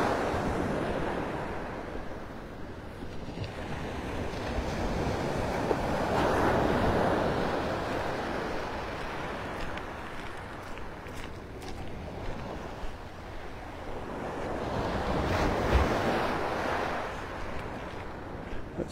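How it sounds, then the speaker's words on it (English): Ocean waves break and wash onto a beach at Pelican Bay in North Naples, Florida, a steady rolling surf with swells building and receding, carried by wind noise across the microphone. "Those waves"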